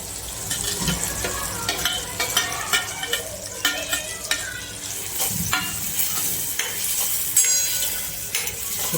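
Corn is added to tomatoes cooking in a pan for a Kathiyavadi corn olo dish, giving a soft continuous sizzle with repeated scraping and stirring knocks throughout, fairly quiet and close.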